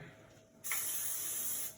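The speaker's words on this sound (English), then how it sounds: "a little bit of cooking spray, and that's olive oil. So I spray it" Olive oil cooking spray hissing from a can in one steady burst of about a second, close and fairly loud, in a kitchen during meal prep.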